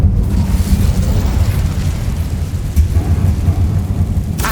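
Dense, continuous rumbling blasts from Bombarda and Incendio spells in Hogwarts Legacy, loud and sustained with bursts layered over a heavy low roar and no pause.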